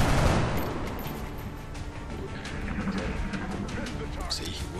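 Gunfire in the video game XCOM: Enemy Within with the Long War mod, an opening burst of shots followed by sharp cracks and scattered impacts over game sound, fairly faint overall.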